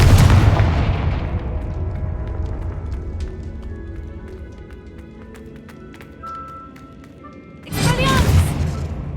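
A Confringo fire spell explodes in the Hogwarts Legacy video game, opening on a loud booming blast that decays into a long rumbling tail with scattered crackles, then a second sharp burst near the end.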